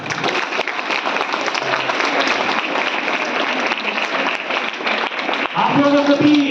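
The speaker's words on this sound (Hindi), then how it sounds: "एक बार जोरदार तालियां।" Students applaud loudly, a dense sustained round of clapping filling the room throughout and swelling slightly toward the end, with a voice briefly speaking over it near the close.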